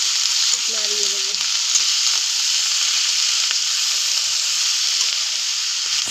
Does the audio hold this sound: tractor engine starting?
no